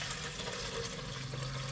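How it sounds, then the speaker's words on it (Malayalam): Water is poured into a pressure cooker, making a steady liquid rush with a low gurgling undertone that stays close and continuous with no voice over it. "എന്നിട്ട് നമുക്ക് കുറച്ച് കുക്കറിലും വെള്ളം ഒഴിച്ചു കൊടുക്കാം"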